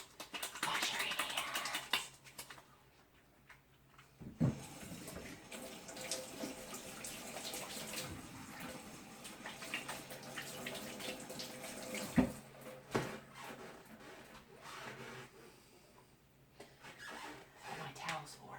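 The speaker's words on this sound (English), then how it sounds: "Wash my hands." A kitchen tap runs steadily while hands are washed in a sink during home chicken butchering, a continuous splashing hiss with a couple of sharp knocks, and a voice talks over it at times.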